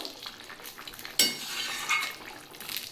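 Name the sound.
stirring fried dry chilli into fish and yam curry in a pan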